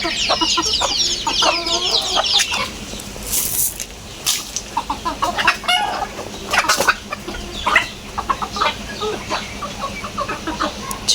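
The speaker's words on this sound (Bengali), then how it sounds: "মুরগি তো ভুট্টাই খায়।" Chickens cluck and squawk close by as they are fed corn on a farm, with a run of busy clucking and sharper calls that comes and goes in bursts over a steady background.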